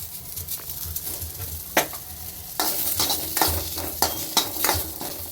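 Onions frying in oil in a pan while making North Karnataka brinjal palya, a steady sizzle broken by sharp scraping stirs and clinks of a spatula against the pan.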